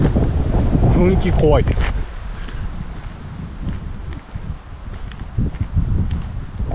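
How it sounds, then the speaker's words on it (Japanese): Strong wind blows in rough, continuous gusts beside Kutsuzawa Lake, a pond in Japan, roaring loudly into the microphone. A person speaks briefly under the wind near the start. "風の吹き方が異様で"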